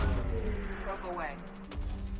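A probe launches in the video game Mass Effect 2: a rising whoosh sweeps upward around the middle, over a dense, booming low rumble that fills the whole short clip.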